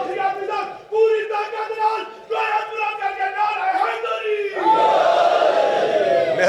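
A crowd at a Muharram majlis shouts religious slogans in loud unison, their chant swelling near the end after a leader's voice calls out.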